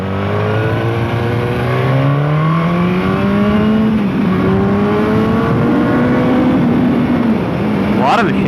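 A BMW S1000R motorcycle engine revs hard through a corner, a loud, close, rising and falling howl with a sharp upward sweep near the end, steady throughout without pauses.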